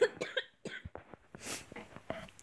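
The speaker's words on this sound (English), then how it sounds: "Every time I cough, I'll try and pull my mic away from my mouth." Someone coughs several times in short bursts while playing Hammerman, a Bennet Foddy fan game, close to the microphone, with breathy throat sounds between the coughs and no clear speech.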